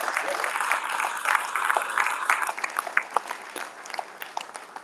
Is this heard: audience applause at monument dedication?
yes